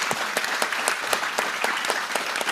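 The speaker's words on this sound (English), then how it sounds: "Everybody can have a massive round of applause for the panel." An audience at a rail industry seminar on rolling stock and infrastructure strategy claps for a panel, with steady, dense applause of many hands at a moderate level and no talking over it.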